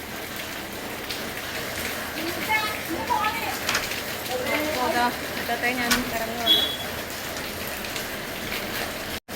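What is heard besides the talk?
heavy rain falling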